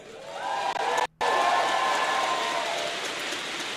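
A large political party convention crowd of about 3,000 applauds and cheers in a big hall, a dense, loud, continuous wash of clapping that briefly cuts out for a moment before resuming at full strength.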